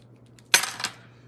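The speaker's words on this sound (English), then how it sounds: "then I need to cut that" Scissors make one quick, crisp snip through a paper craft strip, a short rustle that fades fast in a quiet room.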